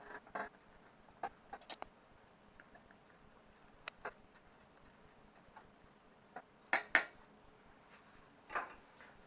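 A kitchen knife cuts chicken fillets in half on a board, making a few sparse, sharp taps and clicks that are quiet and spaced out, with no one talking.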